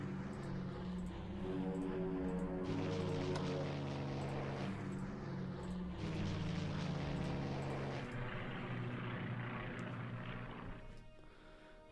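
Bomber aircraft in the Strategic Command: World at War strategy game, a steady droning propeller engine hum in waves, moderately loud and continuous, fading slightly at the end.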